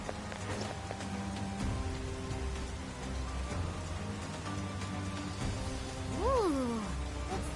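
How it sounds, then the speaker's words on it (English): Steady rain patters in a PS4 video game, a soft constant hiss of drops throughout, briefly joined near the end by a short rising and falling whine. "Is this what they call rain? It just started."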